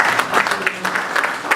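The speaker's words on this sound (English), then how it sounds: "Ladies and gentlemen, a round of applause, please, as we welcome the moderator." An audience at an energy-sector panel dialogue claps to welcome the moderator, a fairly loud burst of scattered clapping with distinct individual claps spread across the short stretch.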